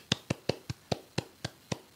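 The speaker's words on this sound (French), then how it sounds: "J'applaudis." One person clapping hands eight times in a steady, even rhythm, close and fairly quiet, with no talking.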